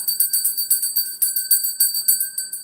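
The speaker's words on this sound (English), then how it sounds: "I'm going to need to ring that bell again." A bell rings in rapid repeated strikes, roughly a dozen bright metallic dings in an even rhythm, each with a ringing tail, loud and close.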